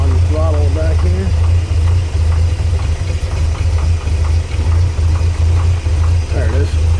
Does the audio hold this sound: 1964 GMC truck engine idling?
yes